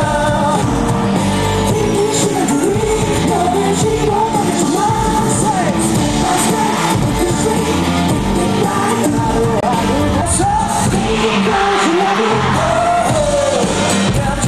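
Fans scream and yell loudly at a CN Blue showcase in Thailand, a dense, unbroken wall of crowd noise with shrill cheers rising over it throughout.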